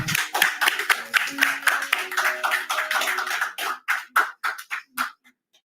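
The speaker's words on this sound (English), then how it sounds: "Can we have a round of applause, please?" A small group claps together, the applause dense at first, then thinning into a few scattered claps before fading out.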